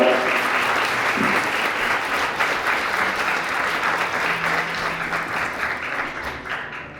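Wedding guests applaud after the marriage declaration, a full, steady round of many hands clapping that holds for several seconds and then tapers off slightly at the close.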